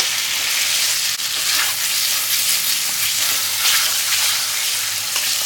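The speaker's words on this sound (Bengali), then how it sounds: "আলুগুলো আমি মশলার সঙ্গে ভালো করে কষিয়ে নিচ্ছি" Potatoes sautéing with spices in a hot pan for aloo dum, a steady close sizzle and frying hiss with faint stirring scrapes, no voices.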